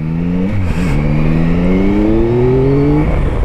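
A 2021 Yamaha Tracer 9 motorcycle accelerates hard and close, the engine note climbing through the gears with a brief dip at a shift before rising steadily again, with no talking.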